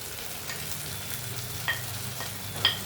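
Onion, ginger and garlic fry in oil with a steady, dense sizzle, broken by a couple of brief scraping stirs of a utensil against the pan, close up and with no voices.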